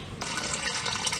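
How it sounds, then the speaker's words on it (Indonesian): Nutrient water trickling and splashing steadily into a hydroponic DFT reservoir tank, a continuous close gush of running water with no voices. "kucuran air ini menimbulkan gelembung udara"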